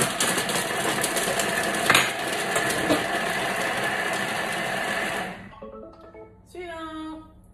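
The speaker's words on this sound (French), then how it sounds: "On va mixer 5 secondes," Onions whirring in a Thermomix at speed 5 for five seconds, a loud steady motorised drone that cuts off abruptly, followed by a brief clatter and a few quiet speech-like sounds.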